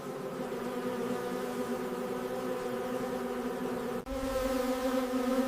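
Worker honey bees buzzing as they build honeycomb, a steady droning hum of many insects with a constant pitch, fairly faint and uninterrupted apart from a brief shift near the end.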